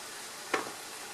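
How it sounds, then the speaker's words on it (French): Mushrooms deglazing a frying pan, their water lifting stuck bits as they are scraped, heard as a steady faint sizzle with one short scraping stir. "l'eau présente dans les champignons qui va permettre de déglacer le reste, en fait"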